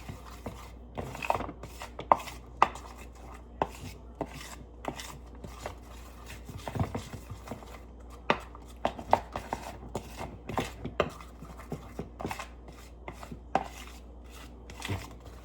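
Batter for chicken tenders being mixed by hand, with a steady run of close, quick scraping and tapping strokes against a bowl, fairly quiet and with no voices.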